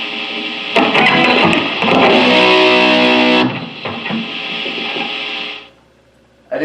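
Samick LN-10 Linda electric guitar played loud through a cranked Blackstar HT-20R tube amp, overdriven chords and sustained distorted notes ringing out, then fading to a near-silent pause.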